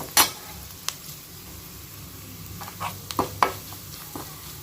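Garlic sautéing in a pan for a toor dal dosa batter, heard as a soft, steady sizzle with a few sharp spatula taps and scrapes scattered through it.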